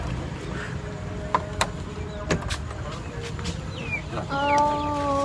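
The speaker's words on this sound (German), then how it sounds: "Oh, ganz viele kleine Hühner." Many small chickens kept indoors near a riverside house in Jakarta cluck and peep close by, soft at first with a few sharp knocks, then a cluster of high chirping calls rises near the end.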